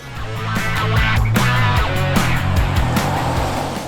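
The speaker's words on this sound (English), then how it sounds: "This one's the petrol, and it's great, smooth, strong, really torquey and muscular" A 2019 Jeep Wrangler with its 272 hp petrol engine and 8-speed automatic gearbox drives along, a steady engine drone rising and falling with gear changes, close and continuous, with no talk.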